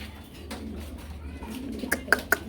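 Domestic pigeons kept in pairs for sale coo softly at close range, a few low calls rising near the end over faint background murmur.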